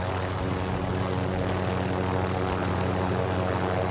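A helicopter flies in Call of Duty: Modern Warfare, giving a loud, steady engine and rotor drone that holds constant throughout, with no speech over it.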